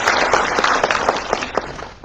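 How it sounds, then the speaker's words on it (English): A seminar audience claps in a brief, continuous burst of applause, loud and close, with individual claps audible throughout. "let us give a big round of applause to all of you for the presence here with us"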